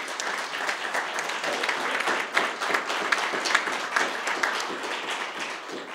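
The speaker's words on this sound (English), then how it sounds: "So let's give them a nice round of applause, please." Audience at a baseball press conference applauding, dense even clapping from a modest crowd sustained for several seconds.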